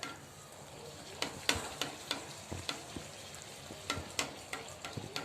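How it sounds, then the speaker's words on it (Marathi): Puris deep frying in hot oil for a festival offering meal, a steady crackling sizzle with sharp pops and spatula clicks scattered throughout, close and moderately loud with no talking. "आता मी सगळ्या पुऱ्या तळून घेते"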